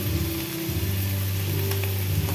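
Beef sizzles steadily in a hot pan, a loud continuous frying hiss with a low hum underneath and a brief stir near the start.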